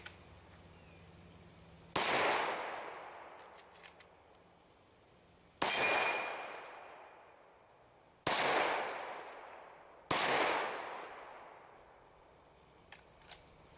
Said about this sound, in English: So, I shot the steel with the 30-30.